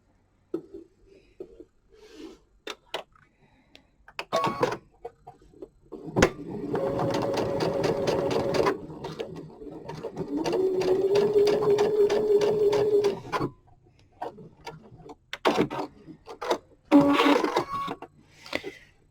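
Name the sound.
sewing machine stitching fabric seams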